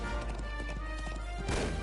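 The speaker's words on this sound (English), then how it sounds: "Sarah, you suck at horse racing." Rapid hoofbeats of a galloping horse during a horse race in the Trails of Cold Steel III video game, brief and rhythmic at moderate loudness, ending in a louder burst.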